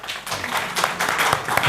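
An audience applauds steadily at a talk event in Catalonia, a dense wash of many hands clapping at moderate volume for a short burst, with no voices over it.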